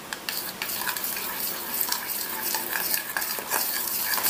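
A spoon stirs chicken coating batter with baking powder in a bowl, giving a continuous close wet scraping and clinking with occasional sharper taps.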